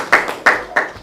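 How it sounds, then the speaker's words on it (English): Three sharp hand claps spaced evenly about a third of a second apart, close and fairly loud, with no voices. "So maybe we can clap for the professor."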